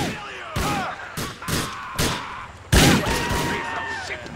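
Repeated gunshots ring out in Grand Theft Auto 4, several sharp loud blasts at irregular intervals with a heavier burst near the end, over a steady game background and some talking.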